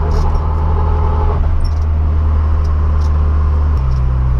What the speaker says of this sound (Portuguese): o barulho desse câmbio é surreal